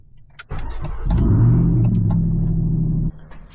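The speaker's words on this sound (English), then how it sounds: "Now let's go ahead and fire this truck up." Up close, a Ram TRX pickup truck engine cranks, catches and roars to life, settling into a loud steady rumble for a couple of seconds before cutting off.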